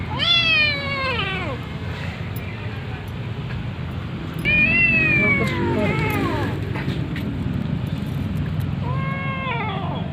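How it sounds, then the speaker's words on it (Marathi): A cat meows loudly several times, long drawn-out wavering cries in separate bursts, against a steady low background hum. "मांजर"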